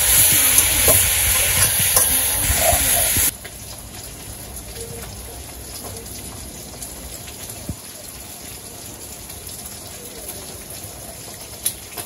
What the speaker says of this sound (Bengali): মাংসটা কষাইতে থাকি, এগুলা তো আবার মাংস শক্ত, ভালো মতো কষাইতে হবে অনেক সময়।